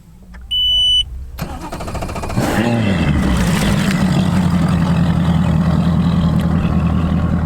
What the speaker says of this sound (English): let's start up the motor